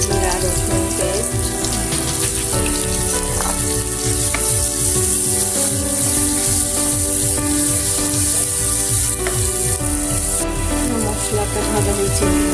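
Garam masala, coarsely crushed on a grinding stone, sizzles and fries in hot oil with ginger, cumin and garlic paste, a steady loud crackle with faint stirring scrapes throughout, no talking.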